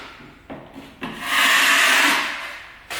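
Joint compound on a ceiling crack is sanded smooth, a few short scraping rubs followed by one longer, louder abrasive stroke, close and with no talk.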